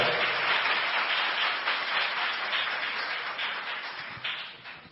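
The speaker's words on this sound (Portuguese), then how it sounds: "Você pode aplaudir o nome do Senhor, aplauda o nome do Senhor." A church congregation breaks into loud, dense applause, a full wash of clapping that holds steady and slowly fades toward the end.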